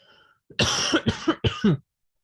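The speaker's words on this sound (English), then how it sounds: "I nearly got through that there without coughing as well." A close, harsh coughing fit of four rapid barking coughs in quick succession, then quiet.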